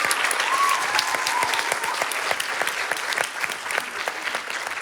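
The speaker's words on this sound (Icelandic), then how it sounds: "Já, gefið þeim ennþá betra klapp," Dense audience applause at a student music contest, steady crowd clapping close and full for the whole stretch with no talk over it.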